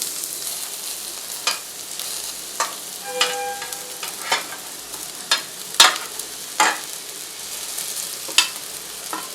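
Ragi vermicelli being stirred with sautéed onions in a hot pan makes a low sizzle broken by regular spatula scrapes and taps against the pan, close and fairly clear, with no talk.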